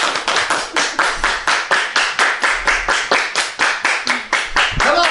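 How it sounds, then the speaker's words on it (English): A group clapping hands together in a steady, loud rhythmic beat, about four claps per second, close to the microphone, with a brief voice near the end. "Everybody clap your hands!"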